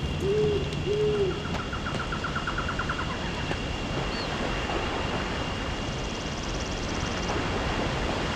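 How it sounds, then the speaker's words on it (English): An owl in a video game gives two soft hoots at the start, followed by faint game bird calls over a steady outdoor ambience with rushing water, no talking. "There's that owl again."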